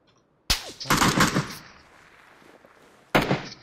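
Gunfire in the battle-royale game PUBG: a loud, dense automatic burst lasting about a second, a quieter lingering tail, then a second sharp burst near the end, with no talk over it.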